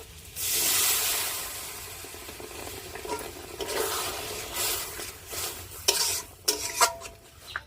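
Egg masala sizzles and bubbles in a pan as a little water is poured in, a loud hiss at first settling into steady frying crackle with stirring scrapes and a few sharp pan knocks near the end.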